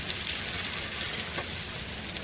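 Brinjal slices fry in hot oil in a pan with a dense, steady crackling sizzle that stays close and even throughout the brief moment.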